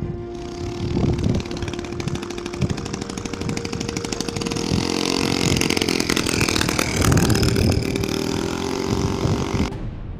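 A Solex Micron moped engine, freshly restored and still lacking its exhaust, starts up on a parking lot and runs loud and buzzing close by, its rasping rhythmic putter rising and settling for several seconds before cutting off.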